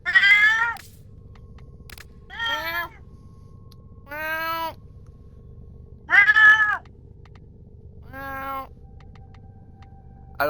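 A house cat meows five or six times in a row, clear and fairly close, with short pauses between calls over quiet background noise.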